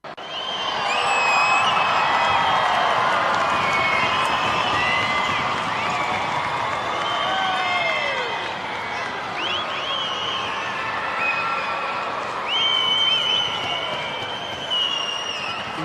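A large stadium crowd at the Gold Coast rugby sevens tournament keeps up loud, sustained cheering at a trophy presentation, with whistles and whoops rising above a constant roar of clapping and shouting.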